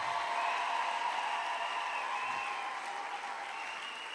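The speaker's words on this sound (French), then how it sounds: "Est-ce qu'on peut bien acclamer Jésus très fort?" A church congregation applauds and cheers for Jesus, a dense sustained wash of clapping that fades slightly toward the end.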